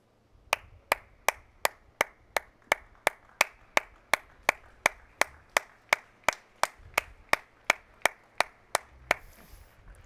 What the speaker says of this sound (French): J'ai lancé un applaudissement là.